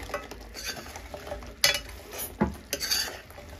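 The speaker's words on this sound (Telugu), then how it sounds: "ఇప్పుడు ఇందులో మనం గవ్వలు వేయించుకోవాలి." Fried gavvalu are stirred into jaggery syrup in a pan, with close scraping and clattering of a spoon on metal, some sharper knocks and a faint sizzle, and no talk.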